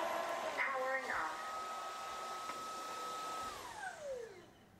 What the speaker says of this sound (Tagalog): the last step in this cleaning process using Dream H13 wet and dry vacuum